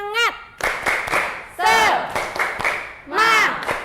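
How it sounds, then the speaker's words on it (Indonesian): Classroom group performing a rhythmic spirit clap, sharp bursts of clapping in a patterned beat with students shouting together in loud chanted calls between the claps. "untuk menambah semangat kita tepuk semangat dulu yuk."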